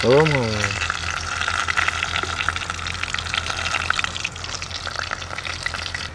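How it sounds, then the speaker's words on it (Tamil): Oil bubbles and sizzles steadily in a clay pot, a continuous crackling fry that stays loud throughout, with a brief voice at the start. "எண்ணெய் நல்லா கொதிக்குது, சலகலண்டு கொதிக்குது. மண் சட்டி தானே"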